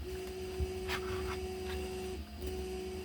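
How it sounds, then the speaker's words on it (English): A 3D printer runs a long print job nearby, a steady motor hum with a sustained tone that briefly drops out, plus faint clicks and whirs from the moving print head. "I hope that printer's not too annoying."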